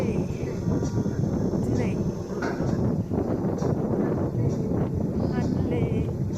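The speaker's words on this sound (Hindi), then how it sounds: "बहुत तेज हवा है" Strong gusting wind buffets the microphone on a mountain road to Hanle in Ladakh, a loud, rumbling roar that stays constant throughout, and a voice speaks over it.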